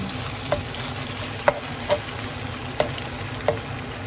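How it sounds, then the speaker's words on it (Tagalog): Beef frying in hot cooking oil in a pan, a steady close sizzle with several sharp spatter pops scattered through, no voices. "Painit na ako ng mantika. Lagay na natin yung beef natin."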